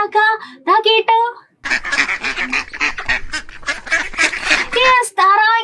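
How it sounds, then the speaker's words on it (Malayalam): Duck quacking, a short run of nasal honking calls, then a longer dense stretch of overlapping quacks and honks from a flock, ending with a few more clear calls; close and loud. "ഇനി താറാവ് എങ്ങനെയാ സൗണ്ട് ഉണ്ടാക്കുക, കേട്ടോ."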